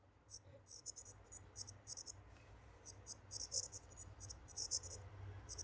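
Faint, rapid scratching strokes of pen or chalk putting down math equations, in short irregular bursts with quiet room noise between them.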